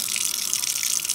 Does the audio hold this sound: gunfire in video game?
no